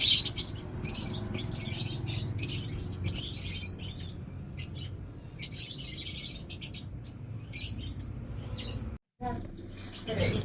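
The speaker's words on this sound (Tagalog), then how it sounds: "tignan muna natin dito yung mga pinatago kong kalapati kay Idol King ko." Pigeons kept in a loft, giving bursts of faint, high chirping and calls in a quiet space, with a short silent gap near the end.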